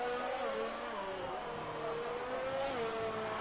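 A Mercedes race car engine roars steadily at high revs in a racing video game at Abu Dhabi, its pitch sweeping up and down through gear changes, loud and continuous with no voices.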